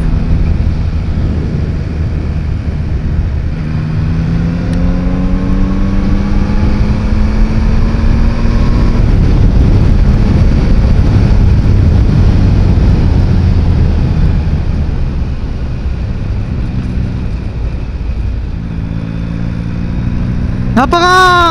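A motorcycle being ridden drones loudly and continuously up close, its engine pitch climbing repeatedly through gear changes, with a rushing wind-like roar throughout.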